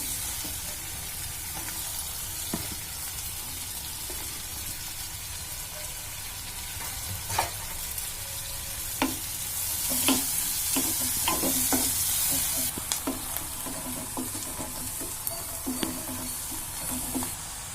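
Chopped onions fry in a pan with a little cumin, giving a steady sizzle with occasional sharper crackles and stirring scrapes, close and fairly loud, with no voices.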